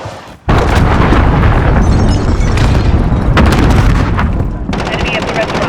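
Loud, continuous battle noise from a Call of Duty Modern Warfare match on the Cheshire Park map: a cruise missile blast and heavy booms merge with rapid gunfire, opening after a brief quieter moment and staying dense throughout.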